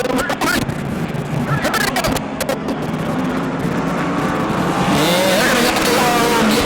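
Pro Truck race trucks circle an oval track in Auburndale, their engines roaring loudly and continuously as they pass close by, with a tire squeal, while an announcer talks over the racing broadcast.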